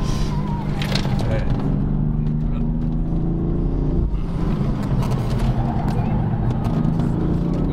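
A BMW M4 drifts through a bend on a road test, its engine a loud, steady rumble throughout, with someone talking over it.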